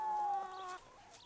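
Hens on an organic egg farm in the Auvergne cluck close by in a brief burst of drawn-out, wavering calls that fade quickly, with no other sounds competing.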